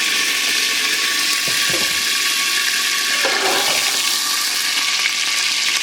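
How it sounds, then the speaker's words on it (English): Oil sizzles steadily in a hot pan while cooking egusi soup, a loud continuous hiss with a few faint clinks and pops along the way. "The second I put it on, it's already start sizzling."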